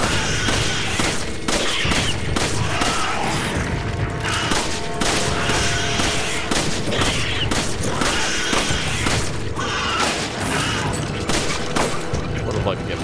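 Gunfire in Resident Evil 5 during a co-op fight in Dynamite Valley comes as many sharp, repeated shots, some in quick pairs, spread across a busy, loud battle din.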